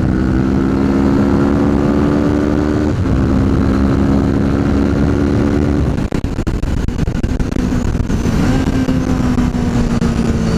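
A Kawasaki Z650 motorcycle on a test ride, its engine droning loud and close as it pulls through the gears, with a brief gear-change dip and a steady roar under wind noise.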